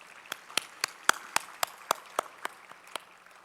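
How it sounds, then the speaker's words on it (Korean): Slow, evenly spaced claps ring out in a church sanctuary as a young-adult worship congregation welcomes new members, about a dozen distinct sharp claps over roughly three seconds, with faint scattered clapping behind them. "다 함께 힘찬 박수로 환영하겠습니다."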